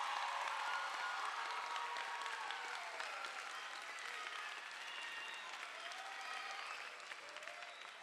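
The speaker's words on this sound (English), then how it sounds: "I'd like you to give a round of applause to every one of these." Sustained audience applause at an evening piano competition as every winner of the Piano Slam is honoured, a dense, steady wash of clapping from a large crowd that holds evenly throughout and stays fairly distant.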